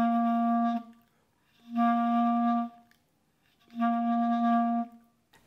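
Three held clarinet notes, each about a second long with short gaps, blown with only cheek air for a thin, buzzy, poor tone, close and alone.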